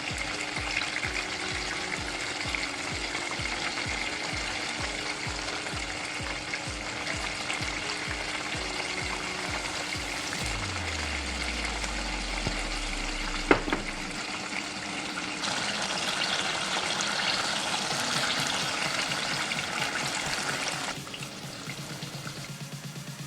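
Turon, banana egg rolls in lumpia wrappers, fry in oil with a caramelizing sugar coating, giving a steady close sizzle and bubbling throughout, with a low hum partway in and a brief clatter as they are turned.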